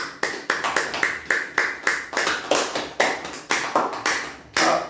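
A church congregation claps in unison during a midday prayer service, about twenty sharp, regular claps in a steady rhythm, close and fairly loud, with no talking over them.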